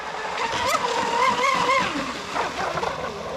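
RC boat on 6S 22-volt 250C battery packs running across water, a high whining motor rising and falling over splashing, moderately close.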